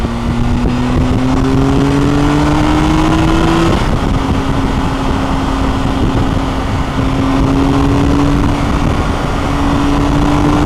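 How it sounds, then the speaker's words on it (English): A vehicle's engine drones loudly and continuously on the A4361 while riding in heavy traffic, with a rising tone that shifts once as gears change and constant wind and road noise throughout. "So much traffic today."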